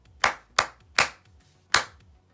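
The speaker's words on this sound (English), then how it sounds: "I will clap something and I want you to see if you know what it is" Four sharp, close hand claps in an uneven musical rhythm, two quick claps, then one, then a last clap after a pause, with no voices.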